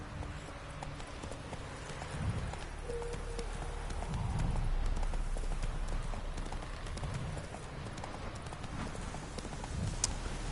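Galloping hooves of Roach, Geralt's horse in the video game Witcher 3, rolling in a steady clip-clop rhythm through the whole stretch, with a faint whinny and game background ambience beneath.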